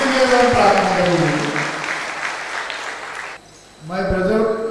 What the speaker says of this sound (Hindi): इसके लिए हम और जोर से उनको तालियां बजाएंगे